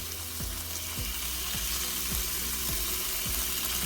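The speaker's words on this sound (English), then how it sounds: "Once we got the meat in the frying pan" Steady, close sizzling of pork frying in a pan for fried rice, a continuous crackling hiss with faint rhythmic clicks beneath it.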